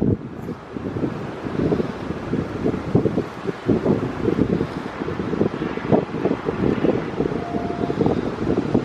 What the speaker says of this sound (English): Apologies if it's quite windy